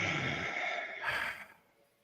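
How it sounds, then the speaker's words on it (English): Close breathing into a microphone, a long heavy exhale followed by a shorter breath that fades into quiet. "We can still hear your breathing."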